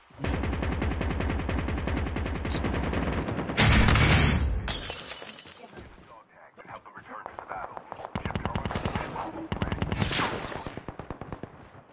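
Rapid shotgun and automatic gunfire from the mobile game Call of Duty Mobile, loud dense bursts with sharp blasts, brief gaps and shattering impacts, ongoing for the whole stretch with game effects layered in.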